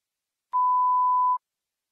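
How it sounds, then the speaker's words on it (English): Single clean electronic beep used as a cue in an English listening test, a pure steady tone lasting under a second, set alone in silence. "When you hear a beep"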